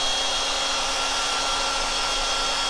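Hair dryer blasting steadily at close range to dry Dixie Belle Terra Clay paint on a box, one loud continuous whine-and-rush with no pauses.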